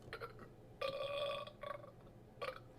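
A loud, drawn-out burp rumbles up close, with a few shorter burps and grunts before and after it, heard on its own with no talking.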